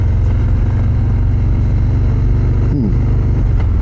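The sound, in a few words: car driving slowly at 25 miles an hour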